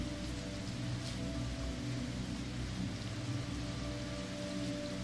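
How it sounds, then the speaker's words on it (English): Steady rain falls continuously on a city, a dense even hiss of drops with a low rumbling undertone, no voices. "those restful, constant sounds of the rain continue to fall"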